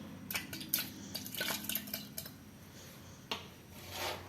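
Bitter gourd pieces drop into a pot of water in a home kitchen, giving a string of light clinks and soft splashes at close range, with a few sharper knocks against the vessel and no talk.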